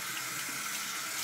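Tap water runs steadily into a sink, a continuous broadband splashing rush held at even loudness throughout, close by with no voices.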